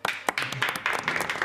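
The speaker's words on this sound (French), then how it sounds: "Vous pouvez applaudir maintenant." A crowd at a celebration claps in brief, sharp bursts, with scattered irregular clapping mixed with a faint background murmur over a short stretch.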